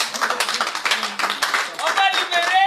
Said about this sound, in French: Applaudissez d'abord pour ça.